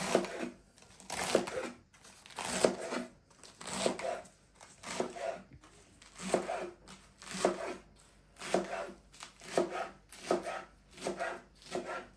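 A knife chops lettuce steadily on a board, crisp cutting strokes in repeated bursts with short pauses between, close and clear with no talking.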